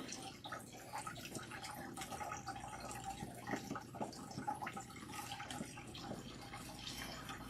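Water runs and splashes steadily as bentonite clay is rinsed out of natural hair, a soft continuous patter with irregular drips, faint and close.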